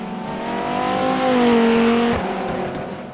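A Dodge Viper race car in the rFactor racing game accelerates hard down a straight, its engine note climbing steadily and loud, then easing off near the end, with no talk over it.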